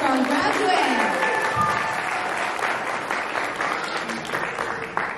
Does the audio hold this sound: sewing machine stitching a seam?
no